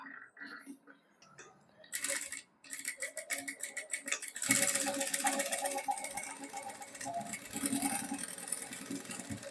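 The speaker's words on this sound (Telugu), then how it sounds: "ఎక్కువ కాదు, ఒక 1 ఇంచ్ వరకు స్టిచ్ వేసుకోవాలి." A sewing machine stitches the side seams of an iron-pleated lehenga skirt. It starts with short start-stop bursts, then settles into a fast, continuous rattling run, close by.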